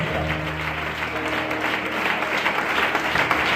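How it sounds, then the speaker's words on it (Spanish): A church congregation applauds the Lord after a sermon, a dense steady wash of many hands clapping, loud and close, with a few voices mixed faintly underneath. "Denle un fuerte aplauso al Señor"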